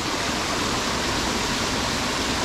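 Minas Viejas waterfall in the Huasteca Potosina pours with a steady, dense roar of falling water, close and unbroken, with no voices.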